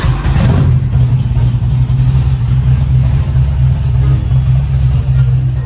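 An old Ford truck engine, just cranked back to life, runs at a loud, steady idle close by, its deep rumble holding without a break.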